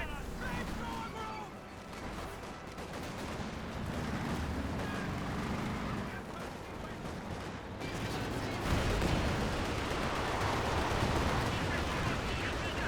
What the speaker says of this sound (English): Good Panzerwerfer barrage did a significant amount of damage to the AT gun